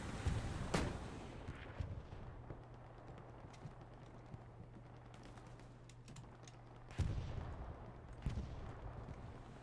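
Rocket launcher fire and explosions in a multiplayer shooter scrim, sharp bursts near the start and again around two-thirds through, set over a low steady hum and scattered clicks.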